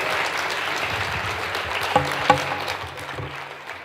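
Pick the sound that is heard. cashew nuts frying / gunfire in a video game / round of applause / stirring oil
round of applause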